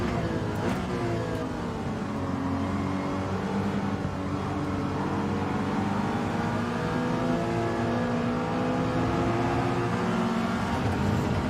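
Porsche Cayman engine in Gran Turismo 7 at Spa, a steady high-revving whine held for several seconds with rising and falling pitch through gear changes, loud and continuous with no talk.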